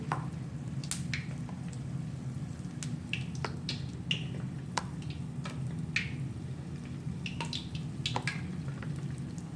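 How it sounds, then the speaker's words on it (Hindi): Coated chicken lollipop pieces deep fry in hot oil, giving a steady low bubbling hiss broken by irregular sharp crackles and pops, fairly close and otherwise alone. "और इसको डीप फ्राई करेंगे।"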